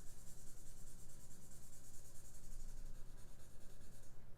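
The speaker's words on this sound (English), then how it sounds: "I'm using my pencil on its side, coloring in the same direction" A pencil held on its side shades back and forth on paper in one direction, a continuous close scratchy rubbing with a steady stroke rhythm and no talking.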